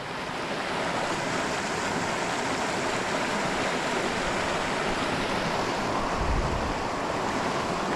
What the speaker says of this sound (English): Very therapeutic when you're listening to water.